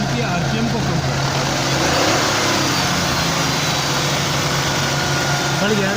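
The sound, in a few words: Suzuki Cultus 2004 car engine revving with HHO kit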